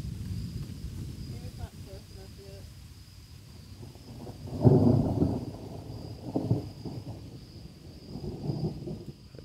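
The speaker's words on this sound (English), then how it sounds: "we're hearing all the thunder and lightning" Thunder rumbles through a thunderstorm over a mobile home in Pennsylvania, with low rolling booms that swell and fade, heaviest midway, under steady background noise.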